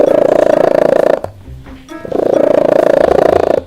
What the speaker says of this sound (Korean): 지금 영상에 나오는 메를린은 기차 소리보다 더 큰 울음소리를 냅니다.